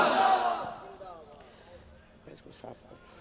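A large crowd at an Islamic religious gathering roars the Naara-e-Takbir response in one loud burst, which fades over a second into murmurs and scattered voices.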